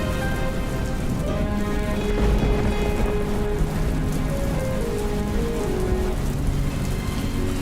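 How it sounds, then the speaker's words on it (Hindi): Heavy rain pours down in a steady, loud, unbroken hiss, with soft low rumbles and tonal background sounds layered beneath it. "ये बारिश तो रुकने का नाम ही नहीं ले रही"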